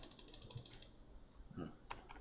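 Computer keyboard arrow keys are pressed a few times while adjusting a number field in a web form, giving faint, sparse plastic clicks in a quiet room with no talk.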